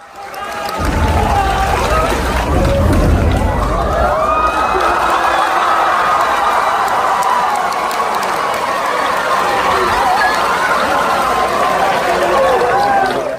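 A large cinema audience erupts into sustained cheering and screaming, a dense wall of excited voices that stays loud for over ten seconds.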